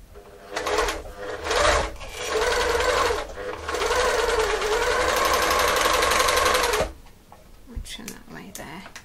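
A serger stitches a test sample on fine woven organza at differential feed setting 2, giving a loud, steady mechanical whirr that starts and stops in short bursts before one long continuous run.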